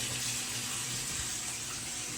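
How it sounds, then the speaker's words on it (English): Water running from a kitchen sink faucet in a house, a short, steady splashing stream at close range with no voices. "See if we got some water here. The water's working, that's good,"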